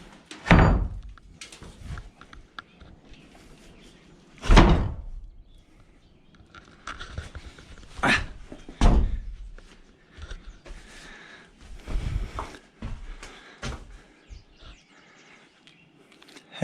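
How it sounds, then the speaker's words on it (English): A barn door that lifts up to widen the opening gives several heavy wooden thumps and knocks spread across the stretch, with scraping and rattling between them, close by and fairly loud. "there's a door here that lifts up where you can widen it"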